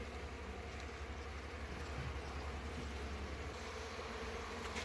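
Worker honey bees swarm around an open hive, their continuous droning buzz steady and close with no break, with no voices over it.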